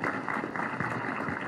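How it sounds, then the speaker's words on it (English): An audience at a Catholic deanery family day at a school gives a round of applause, soft steady clapping from a crowd heard at some distance with a faint murmur beneath. "Let's give them a hand of applause."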